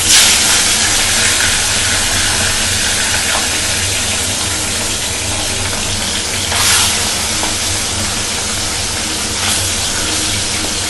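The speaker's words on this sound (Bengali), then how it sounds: "মাছগুলো আমি এভাবে ভেজে নেবো কুচির কুচির করে, লাল লাল করে।" Katla fish pieces fry in hot oil in a wok, making a loud, continuous hissing sizzle that starts with a burst and holds steady, with brief flare-ups partway through and no talking.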